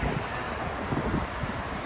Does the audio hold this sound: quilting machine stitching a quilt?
no